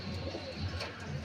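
Pigeons coo close by in soft, repeated low calls, steady and continuous over a short stretch, with faint background noise and no clear talking.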